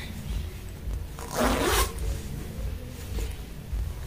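A front zipper on sewn palazzo pants gives one quick, rasping zip at close range, standing out against a quiet room hum.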